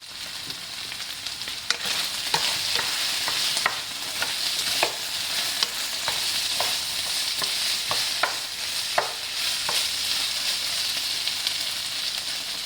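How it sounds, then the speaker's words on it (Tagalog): Pork giniling with vegetables frying in a pan, a steady sizzle running throughout while a utensil stirs and scrapes in repeated clicks and taps, close and fairly loud, with no talking. "Halo-halo lang natin hanggang sa maluto ating gulay."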